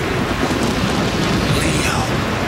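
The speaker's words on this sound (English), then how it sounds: "Now that's a thunderstorm!" A loud thunderstorm in an outdoor scene from a Power Rangers Lost Galaxy episode, with a steady rumbling roar and hiss of wind or rain filling the whole moment without pause.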